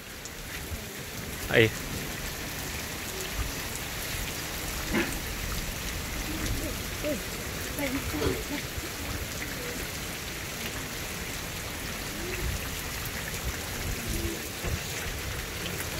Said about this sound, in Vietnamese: cái hôm nay nó còn mưa nhỏ đấy